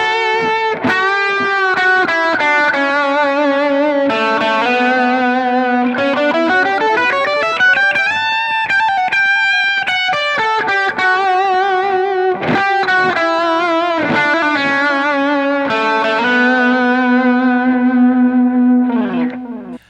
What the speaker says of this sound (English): for more lead work, it sounds really good just to get a bigger kind of delay sound.